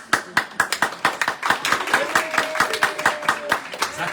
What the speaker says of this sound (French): Je vous applaudis, moi, ce soir.